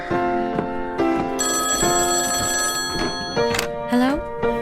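A telephone in a radio drama rings in repeated bursts, loud and close, with people talking over and between the rings.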